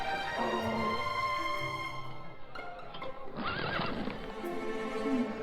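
Horses whinny and neigh at a century-old mule and horse market on the ancient Tea Horse Road in Weishan, with one loud, shrill whinny rising midway over a steady bustle of market noise.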